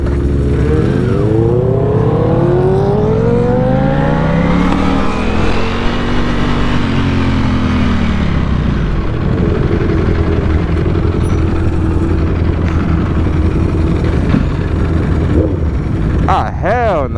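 A sport motorcycle's engine revs hard and rises and falls in pitch as the clutch is worked, a loud, close, continuous roar with a person talking over it.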